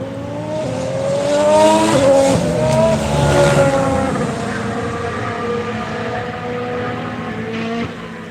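A Ferrari Formula 1 car in testing at Barcelona screams past close by, its high engine note rising and falling through gear changes, then fading into the distance.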